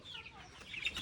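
Faint, brief clucking from a small flock of about fifty 27-day-old tiger chickens on a small poultry farm, soft and somewhat distant.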